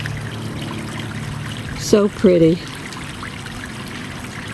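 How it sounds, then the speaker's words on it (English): A small waterfall trickles into a backyard koi pond, a soft, steady splashing background while a person speaks briefly near the middle. "Love to come out here and see the fish and hear the waterfall."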